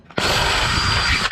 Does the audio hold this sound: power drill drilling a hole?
yes